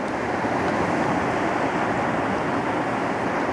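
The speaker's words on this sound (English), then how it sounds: "Just sound of the waves" Ocean waves wash steadily against a rocky shore below a cliff, a continuous loud broadband roar of surf with some wind noise on the microphone and no voices.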